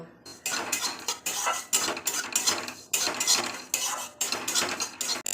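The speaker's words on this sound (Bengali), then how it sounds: "মুগের ডালটা আমি প্রথমে ভেজে নেব" Dry moong dal being fried in a pan, with a spatula scraping and rattling against the metal in quick repeated bursts, close and fairly loud, with no voices.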